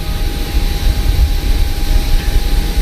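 Airliner engines hum steadily in Microsoft Flight Simulator while the plane taxis to its parking stand, a continuous low rumble with a faint high whine, close and fairly loud, no voices.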